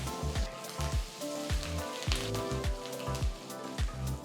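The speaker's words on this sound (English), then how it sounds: "Once the mustard seeds start crackling" Mustard seeds crackle and pop in hot oil alongside green chilies, asafoetida and curry leaves, giving close, steady spitting with a run of sharper bursts for a Gujarati dal dhokli.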